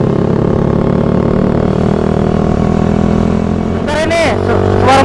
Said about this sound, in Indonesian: Bentar ini, suara motor gua.